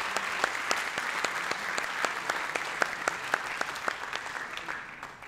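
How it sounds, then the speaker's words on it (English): Sustained audience applause at a conference closing session, a dense wash of clapping with sharper individual claps standing out, steady and fairly close throughout with no speech over it. "So I think you deserve a round of applause."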